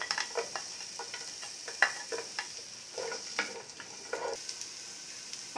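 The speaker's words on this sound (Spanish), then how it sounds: "ponemos aquí la cebolla y el ajo y lo vamos a sofreír durante" Onion and garlic sautéing in a pan, a soft sizzle under frequent stirring scrapes and taps from a utensil, close but fairly quiet, no talking.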